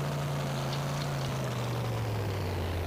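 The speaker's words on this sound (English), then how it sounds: "Well, all you can hear is the engine now." A car engine idles in the Hot Wheels Mechanix video game, a steady low drone whose pitch sinks slightly, heard alone without music or speech.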